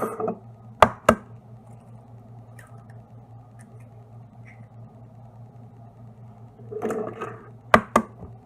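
Eggs cracked into a zucchini pie mixture: a pair of sharp, close taps near the start and another pair near the end, over a steady low kitchen hum with faint rustling between.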